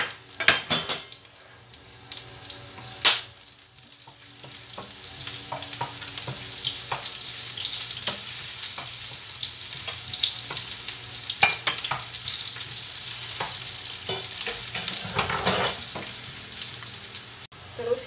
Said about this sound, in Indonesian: terus jahe dan bawang putih kita tumis dulu sampai harum